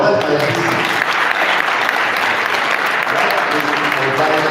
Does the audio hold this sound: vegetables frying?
no